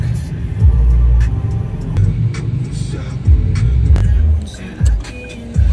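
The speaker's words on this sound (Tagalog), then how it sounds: "Traffic!" Cars moving through busy street traffic in the Philippines, a loud, steady low rumble with engines swelling and passing close by, plus a few sharp knocks. A voice can be heard now and then over the noise.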